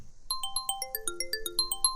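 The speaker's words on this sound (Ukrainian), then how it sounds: "Задзвонив телефон." A mobile phone rings with a bright, repeating electronic melody of short tonal notes, clear and moderately loud with no voices.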